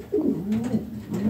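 Racing pigeons coo softly in a loft on a warm day, a few low, rolling, repeated coos close by with no talk over them.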